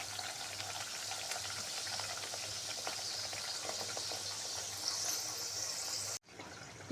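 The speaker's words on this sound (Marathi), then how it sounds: "आता आपण सांजोरी तळून घेऊया." Sanjori, sweet semolina-stuffed pastries, frying in hot oil with a steady close sizzle and bubbling that runs evenly, then cuts off abruptly near the end.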